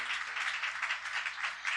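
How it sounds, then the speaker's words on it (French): A church congregation at a Haitian Baptist service claps steadily and fairly close, a dense continuous patter of many hands with no talking over it. "Continuez à acclamer, acclamation ça."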